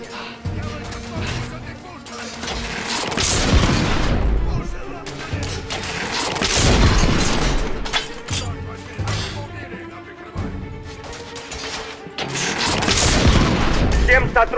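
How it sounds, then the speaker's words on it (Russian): Intense artillery bombardment in the video game The Order: 1886, with repeated heavy booms and crashing blasts in irregular bursts, loud and close, over a continuous rumbling battle background. "Мы наблюдаем интенсивный артиллерийский обстрел."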